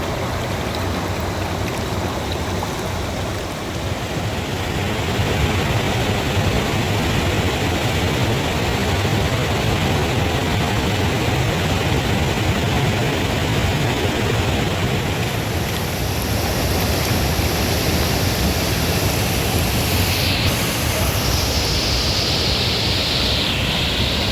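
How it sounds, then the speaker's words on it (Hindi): Aharbal waterfall in Darhal roars in a constant, heavy wash of falling water, loud and close for the whole stretch, with no one speaking. "यह दरहाल का अहरबल वाटरफॉल है"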